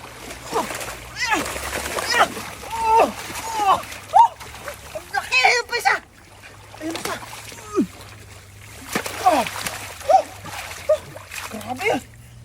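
Large carp splashing in water, with repeated bursts of splashing and sloshing close by while several people talk and exclaim excitedly over it.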